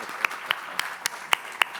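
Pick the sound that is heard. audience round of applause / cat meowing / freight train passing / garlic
audience round of applause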